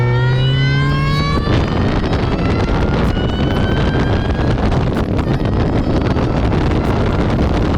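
A supercharged Mini Cooper S engine roars loudly under heavy wind rush while driving, with a rising whine early on and then a dense, constant drone.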